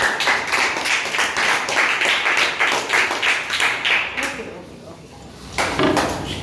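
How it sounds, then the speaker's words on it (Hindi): Schoolchildren in a classroom clap for their classmates, a burst of rapid, rhythmic hand claps from many small hands nearby, fading out briefly before a short final flurry, with voices in the room. "ताली बजाओ इनके लिए।"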